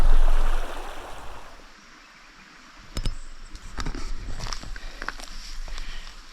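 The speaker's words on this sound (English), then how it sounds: "And another river crossing." A van fords a river crossing. A loud rush of splashing water opens the passage and fades, then quieter trickling and scattered knocks follow.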